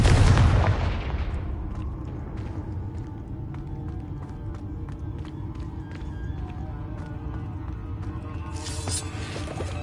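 Fire-spell explosions from Confringo in Hogwarts Legacy on PS5: a loud blast at the start, then a dense rumbling, crackling wash that carries on steadily to the end.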